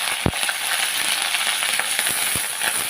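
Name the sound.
small onions and curry leaves frying in oil for tempering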